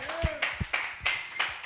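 A few distinct hand claps ring out in a slow, uneven rhythm, close and fairly loud, with speech and other noise mixed in over and between them.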